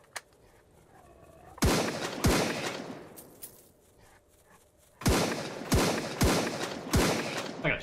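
Video game gunfire from a shooting gallery in an Australian-themed game: loud, sharp shots, a pair early then a rapid run of five or six evenly spaced blasts, each with a short decaying tail, over quiet game ambience.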